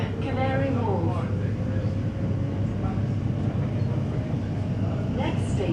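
An Elizabeth line Crossrail train runs between stations toward Abbey Wood via Canary Wharf, a steady loud rumble and rolling hum with a rising whine; an announcement voice speaks over it.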